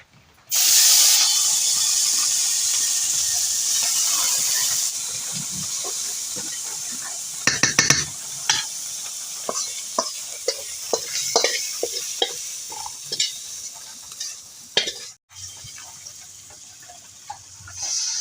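Prawns with spices fry loudly in a pan, a strong steady sizzle from the start that later gives way to scraping stirs and clinks as the masala is worked, fairly close, with no talk.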